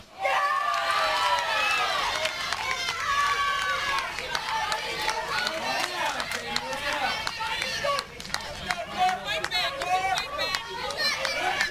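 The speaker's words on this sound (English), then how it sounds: "Rhode Island crowd that made the trip up from East Greenwich, not under 2 hours away, making some noise." A crowd of Rhode Island fans cheers and shouts at a Wednesday afternoon softball game against New Jersey, a lively mass of voices rising and falling steadily throughout.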